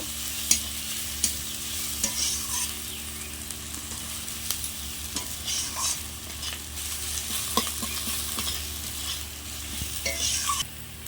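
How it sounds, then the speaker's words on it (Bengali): Garlic paste, onion and green chillies fry together in a pan with a continuous close sizzle. Frequent stirring scrapes and light spoon taps punctuate it, and no one talks. "এবার দেবো রসুন বাটা পেঁয়াজ রসুন কাঁচা লঙ্কা একটু ভালো করে ভেজে নেব"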